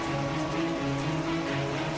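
Continuous heavy rain falling in Dwarka, Gujarat, over 10 inches, a steady wash of hiss with a low hum beneath it, no voices.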